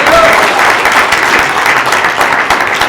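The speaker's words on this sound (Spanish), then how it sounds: "¿Le puede dar un aplauso al Señor en esta tarde?" A church congregation applauds in praise, dense steady clapping filling the whole stretch at close, loud level with no break.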